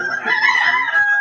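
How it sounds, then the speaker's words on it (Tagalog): A rooster crows loudly from close by, one drawn-out crow of about a second, with no talk over it. "Kaya gina mga manok diha."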